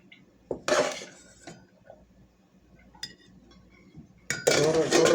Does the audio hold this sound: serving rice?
yes